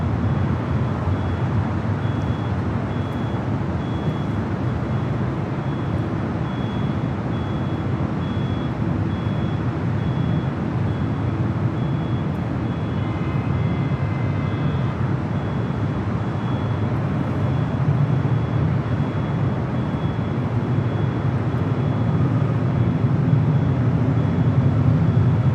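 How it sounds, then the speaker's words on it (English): A Delta A319 airliner lines up on the runway at Los Angeles airport, heard as a steady, distant jet engine rumble and whine that holds level and swells slightly, with no talk over it. "there's a Delta. Delta A319 heading to Phoenix"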